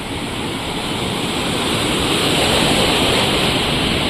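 Large ocean waves crash on a rough coastline where fishermen work the surf, a continuous loud broadband roar of surf that swells slightly and never lets up, with no voices.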